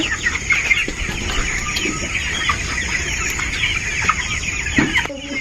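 Chickens at a poultry farm cluck and squawk continuously in a dense, close chorus, with a sharp clatter near the end and no speech.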